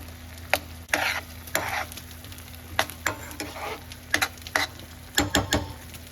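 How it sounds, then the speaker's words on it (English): A curry of melted tomatoes simmers and sizzles in a pan while a spoon stirs it now and then, giving a steady frying hiss under sharp scraping bursts, close and fairly loud, with no voices. "I'll let it cook for a few more minutes and then I'll add paneer."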